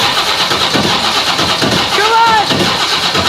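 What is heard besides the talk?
1970 twin turbo big block jet boat engine first start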